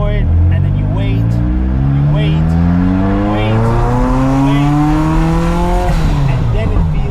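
A Ferrari F40's turbocharged engine accelerates at full throttle, its loud, continuous roar climbing steadily in pitch through a long pull, dropping sharply and rising again near the end.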